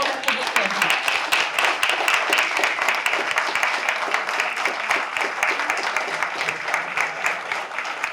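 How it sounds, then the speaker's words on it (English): An audience at a hospital cardiac and vascular care education event applauds the physicians, giving steady, dense clapping that fills the room and holds at an even level throughout. "let's give one more round of applause to all of our physicians"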